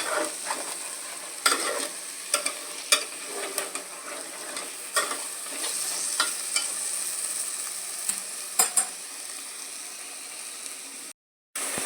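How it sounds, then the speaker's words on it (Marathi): Crab curry masala is sautéed in a pan, a soft continuous sizzle under repeated scraping strokes of a spatula, close by, ending in a brief silence. "चांगले परतून घेऊया परत परतताना त्याचा सुगंध एवढा सुटला आहे"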